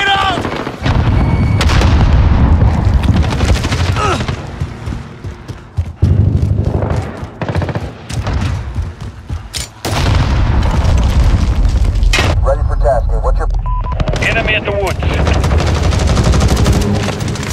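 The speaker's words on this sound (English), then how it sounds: "Grenade out!" A grenade explosion and rapid gunfire in the video game Call of Duty Modern Warfare, during a team deathmatch. Loud, dense booms and bursts of shots crowd together, briefly breaking off before firing starts up again.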